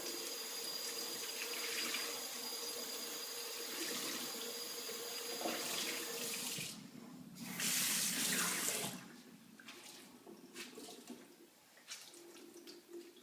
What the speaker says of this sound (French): Donc vous rincez une dernière fois votre chiffonnette gros travaux.